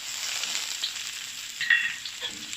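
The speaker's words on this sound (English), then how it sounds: "I put in some oil again, new oil, and I put in my garlic, ginger, garlic, and curry leaves" Garlic, ginger and curry leaves frying in fresh oil in a pan for an Indian Kerala fish stew, giving a steady close hiss and sizzle with a brief brighter crackle partway through, no talking.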